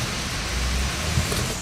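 Heavy monsoon rain falling across North India, a dense, loud, constant downpour with a low rumble beneath, steady with no voices.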